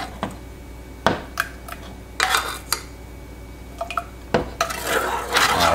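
A spoon scrapes and clinks against a pot while thickening cream of wheat farina is stirred, giving a few sharp metallic knocks and scraping swishes at uneven intervals, close and moderately loud, with no talking.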